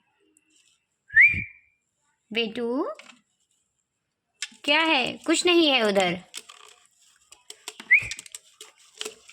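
A few short bright whistles from a pet talking parrot, spaced apart, with a person talking in between and some clicking at the end.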